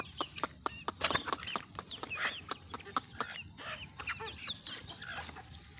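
Chickens and other fowl on a farm clucking busily while being fed maize bran, with sharp pecking taps and overlapping clucks close by, plus a few louder calls, all without talk.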